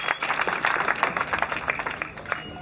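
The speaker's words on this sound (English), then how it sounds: "let's give him a round of applause" Audience applause at a university graduation ceremony, steady dense clapping from a large crowd that runs throughout, moderately loud and fairly close.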